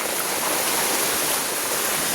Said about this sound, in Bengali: এদিকে দেখো বৃষ্টি হচ্ছে